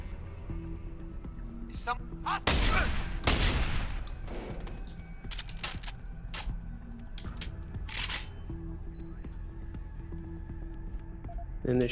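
Revolver gunshots in the video game Deus Ex: Human Revolution, a few sharp loud bursts near the start and several shorter cracks later over a steady background hum.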